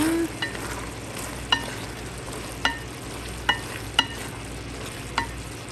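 Pork menudo with potatoes and carrots being stirred in a cooking pan, a steady low sizzle under sharp utensil scrapes and clacks against the pan every second or so, with no talking.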